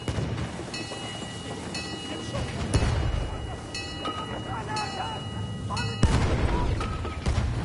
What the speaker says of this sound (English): Ah, fucking damn grenades. They really want us out.